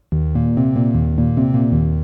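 A steady, sustained synthesizer sine-wave sub-oscillator tone, raised one octave, with a deep low layer, starting abruptly and holding at constant loudness with slight pulsing.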